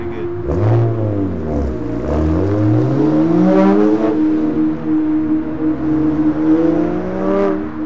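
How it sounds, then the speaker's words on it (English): A 2009 BMW 135i twin-turbo coupe drives by with its engine revving, pitch rising and falling through several gear changes as it accelerates, steady and fairly loud with no talking. "The car is a 2009 BMW 135i."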